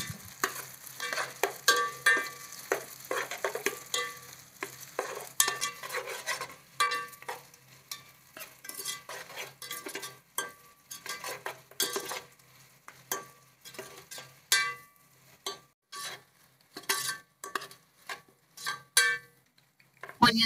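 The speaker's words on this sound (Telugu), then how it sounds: "ఈ ఆనియన్స్ ఇవన్నీ కూడా మనం బాగా వేయించుకుందాం." Onions, curry leaves and green chillies sizzle and fry in oil for mutton dum biryani, with steady crackling and repeated spoon stirring and scraping against the pan, close and fairly quiet throughout.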